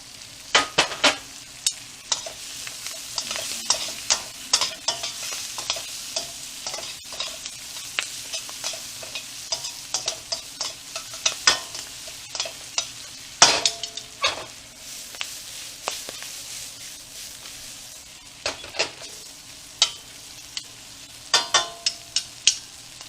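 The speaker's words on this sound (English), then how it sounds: "Now it's going to look like a lot of spinach because it's going to cook down" Spinach cooking down in a pan, a continuous sizzle broken by frequent sharp clatters and scrapes of stirring, close and fairly loud, with no talk.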